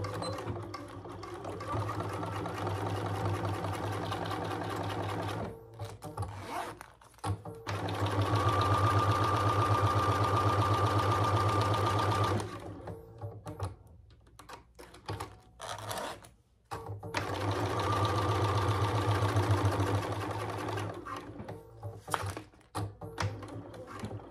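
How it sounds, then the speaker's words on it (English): A Bernina sewing machine stitches through clear vinyl in close, loud bursts of rapid whirring, separated by short quiet pauses between runs. "this Bernina is sewing like a charm on all this clear vinyl and everything"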